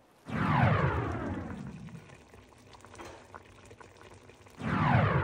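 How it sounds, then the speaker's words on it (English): A pot of chipotle chicken soup with cilantro dumplings boiling vigorously, a steady bubbling churn that eases slightly in the middle before surging loud again at the end. "The soup has been boiling with the dumplings in it for about 10 minutes."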